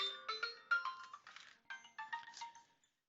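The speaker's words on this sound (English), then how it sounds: "And that's my phone, and I'm not going to answer it." A mobile phone ringtone plays a bright chiming melody of quick repeated bell-like notes, clear and alone for about three seconds before stopping.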